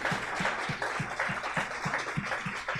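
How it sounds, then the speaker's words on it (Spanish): A church congregation claps together in a steady rhythmic beat at moderate volume, with no voices over it. "¿Cuántos pueden dar un aplauso al Señor por esto?"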